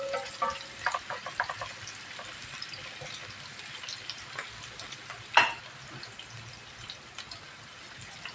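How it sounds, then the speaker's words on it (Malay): Onions frying in a pot, a quiet, crackling sizzle with scattered pops and a faint stirring clatter, low in level and continuous throughout. "Kita nak bagi garing sikit bawang ni."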